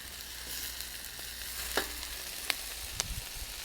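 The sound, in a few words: stir-frying chicken with spring onion in a wok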